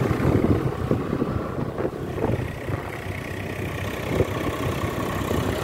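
A 2018 Swaraj 744 tractor pulling a heavily loaded double-tyre trolley, its engine chugging loudly and steadily up close with rough, uneven pulsing.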